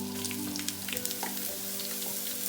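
Onions sizzle in hot oil with mustard seeds for chilli paneer, a steady close crackle and hiss with small pops and faint stirring, no voices.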